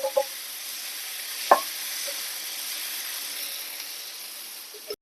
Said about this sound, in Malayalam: എടുത്ത് വെച്ചിരിക്കുന്ന തക്കാളി കട്ട് ചെയ്ത് വെച്ചത് ചേർക്കാം